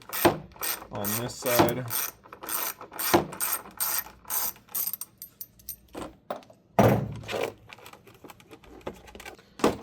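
A ratchet with a 7mm socket backs a screw out of the armrest switch panel on a 2003-06 GMT800 Silverado, Tahoe or Avalanche, giving bursts of quick, close clicking between stretches of someone talking.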